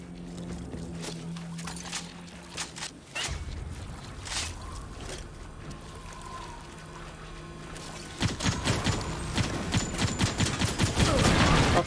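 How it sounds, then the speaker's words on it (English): Musket gunfire in a video game, with sharp shots at irregular intervals and then a dense rapid burst near the end, loud and close over game background noise. "Fucking shooting with this musket again."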